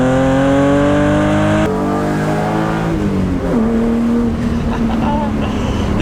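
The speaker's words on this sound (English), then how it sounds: "I want you guys to hear the exhaust." A BMW E36 M3 drives along a cliffside road with its exhaust droning steadily as the engine pitch rises and falls through shifts, loud and close, while someone occasionally talks over it.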